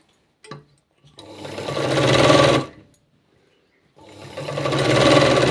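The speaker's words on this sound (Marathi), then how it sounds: "आता समोरच्या साईडने शिवून घ्यायचं आहे" A sewing machine stitching a long sleeve runs in two bursts, each speeding up into a steady loud whirring drone, separated by a short silent pause and preceded by a brief click.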